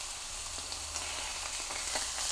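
Steak searing in a skillet gives a steady close hiss and crackle of sizzling fat, with faint pops scattered through and no voices over it.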